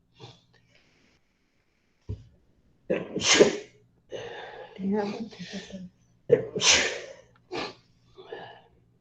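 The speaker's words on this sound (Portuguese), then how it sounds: "Ainda vou dar uns espirros ainda, hein?" A person sneezes several times in a row, loud close bursts separated by short pauses and sniffs, with no other sound between them.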